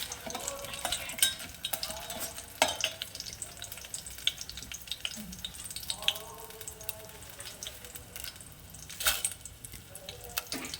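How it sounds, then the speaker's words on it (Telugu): Green chillies frying and being stirred in a little oil while making a radish chutney, with a soft, steady sizzle and occasional scraping of the spoon in the pan, and a few faint water sounds in the background. "కొంచెం ఆయిల్ అవి వేగిన తర్వాత పచ్చిమిరపకాయలు కొంచెం తీసి"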